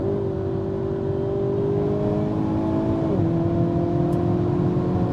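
A 2023 Hyundai Kona N compact SUV pulls hard under full throttle, its engine droning loud and steady from inside the cabin with a sharp pitch drop midway as it shifts, then climbing again.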